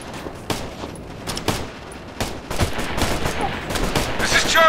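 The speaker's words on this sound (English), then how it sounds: "We're getting shot at!" Gunfire in the video game Operation Flashpoint: Red River: a dense fusillade of rifle and machine-gun shots, sharp close bursts scattered through the firefight, with a faint radio-style voice near the end.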